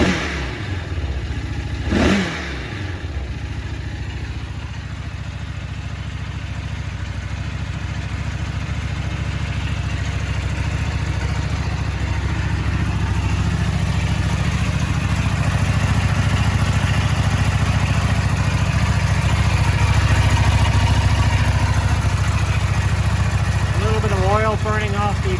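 A 2008 Buell 1125R motorcycle engine runs loud and steady close by, its exhaust still burning off a WD-40 coating, rising slightly in intensity as it's revved, with a rattly mechanical clatter throughout.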